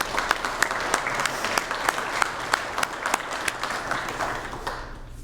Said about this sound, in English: Let's give all these people a very well-earned round of applause.